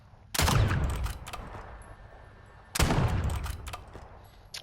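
Two loud gunfire bursts from a Strider 300 fitted with a hybrid barrel in a video game, each a sharp broadband blast trailing off, spaced about two seconds apart with no talk.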